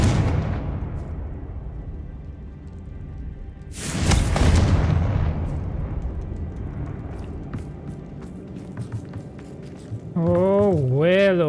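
A Confringo blasting spell in Hogwarts Legacy bursts out as one loud, sharp blast that decays into rumbling game noise, followed near the end by warbling magical tones.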